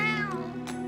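A cat meows once, a drawn-out, falling cry that fills most of the moment, loud and close, with a faint second call near the end and no voices.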